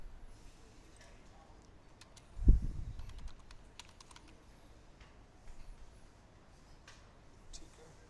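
Keys clatter faintly on a computer keyboard in scattered taps, with one louder thump midway and quiet background noise between strokes.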